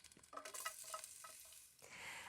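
Bruised garlic cloves sizzle and crackle in hot olive oil, with a few soft stirring clatters; quiet, close and fairly brief.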